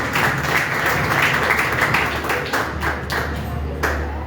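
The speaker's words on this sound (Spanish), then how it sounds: "Démosle fuerte palmas al Señor Jesucristo que ya está en este lugar." A church congregation claps loudly for Jesus during a worship service, a dense, steady wash of hand claps lasting throughout, with a low hum underneath and a few voices mixed in.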